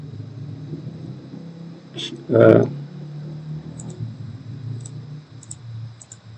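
A computer mouse clicks faintly a few times while working in Solidworks CAD software, with a louder thump near the start over a low background hum.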